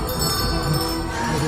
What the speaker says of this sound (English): Suddenly, more bells began to ring.